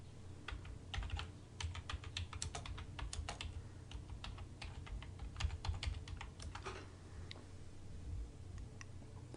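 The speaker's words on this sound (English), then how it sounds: "So what we're going to do is type in Ottawa, Illinois embroidery and see what comes up." Someone types a search query on a computer keyboard, a quick run of close, crisp key clicks in uneven bursts with brief pauses between them, fairly faint, and no voices.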